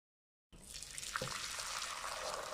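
Boiled meat being drained in a kitchen as water pours and splashes steadily, starting abruptly and continuing close and fairly soft with no talking.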